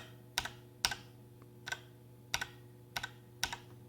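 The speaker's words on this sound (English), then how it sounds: "you hear the boing boing on the F key" Computer keyboard keys struck one at a time beside a water-cooled PC, each press giving a sharp click with a springy boing ring on some keys like F and the space bar; six evenly spaced strokes over a steady low pump hum.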